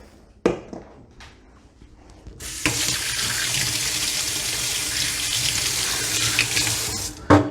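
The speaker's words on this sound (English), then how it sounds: "now I'm going to wash my hands again" Kitchen tap turned on and running for hand washing, a loud steady splashing stream after a few handling knocks, then shutting off near the end.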